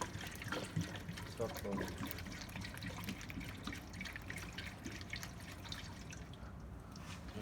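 Water trickles and drips into a car's radiator during a new engine install, faint irregular splashing under a brief spoken remark.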